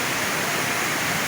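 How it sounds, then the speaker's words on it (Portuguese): A waterfall with a steep drop roars as a steady, dense broadband rush of falling water, continuous and fairly loud, with no voices. "E a parte baixa com a queda bem acentuada lá embaixo."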